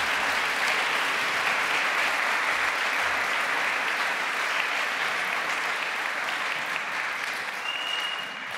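An audience welcomes a priest speaker to St. Bede with sustained, even applause from many hands, filling the room and easing off slightly near the end.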